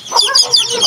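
Hen clucking in rapid, close, fairly loud bursts across a short moment in a farmyard, with a few higher cackling notes and no talk.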